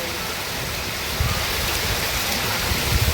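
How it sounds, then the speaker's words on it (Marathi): Heavy unseasonal summer rain pouring down in a dense, steady hiss, with a rumble of water swelling partway through and no voices. "खूप जोरात पाऊस आलेला आहे मित्रांनो"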